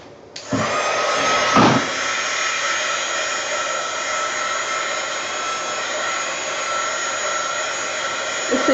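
A hair dryer blows steadily on a fluid acrylic pour painting, a loud continuous broadband whoosh that starts abruptly, with a brief knock near the start, and holds unbroken throughout with no talking.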